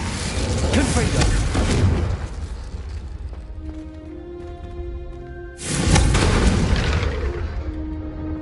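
Confringo blasting spells in Hogwarts Legacy go off as two heavy booming explosions, the first loud burst fading into ringing tones before a second roaring blast near the end.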